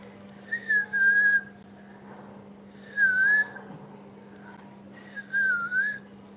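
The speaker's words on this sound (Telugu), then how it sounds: "విజిల్ వేస్తాను నేను" A person whistles three short rising-and-falling tunes separated by pauses, close and fairly clear over a steady low hum in a quiet indoor room.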